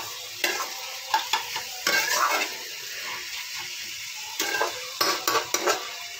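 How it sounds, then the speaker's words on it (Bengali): Ginger paste fries in a pan with a splash of water, a low sizzle broken by several short scraping stirs of a spoon at irregular intervals, close and fairly quiet, with no talk. "এবার এটাকে ভালো করে আবার ভাজা হোক।"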